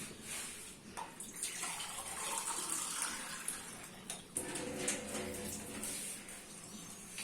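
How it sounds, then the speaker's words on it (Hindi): Water is poured from a glass into a bowl of raita in a home kitchen, an irregular splashing gush that swells and eases over several seconds, with no voices. "और इसमें डाला जाएगा पानी।"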